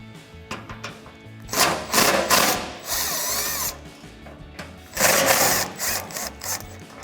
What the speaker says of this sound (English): So we're going to remove them with our gun and our 12 millimeter.